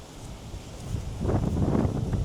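Strong wind gusting across a microphone at an open scenic viewpoint in North Macedonia, a steady low rumble and buffeting that grows louder and rougher in the second half, with no talking.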